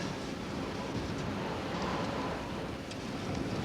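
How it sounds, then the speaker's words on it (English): Steady, broad wind noise rushes past the microphone high on a chimney, without letup, a dense roar with no voices. "It gets very windy"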